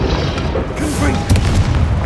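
Fiery Confringo spell blasts in the wizarding video game Hogwarts Legacy, a loud booming burst landing mid-combat over a dense bed of battle noise and spell effects, with a voice calling out during the fight.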